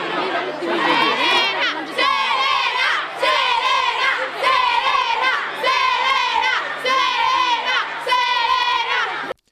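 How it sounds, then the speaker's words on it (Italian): A crowd of young girl fans waiting for Selena Gomez shouts and chants in rhythmic repeated bursts, loud and near, the massed high voices rising and falling in about five waves. "le ragazzine inneggiavano e chiamavano a gran voce Selena"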